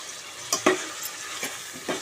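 Cucumber pieces frying in oil for dosakaya pappu, with a soft steady sizzle broken by a few short stirring scrapes, heard alone at close range.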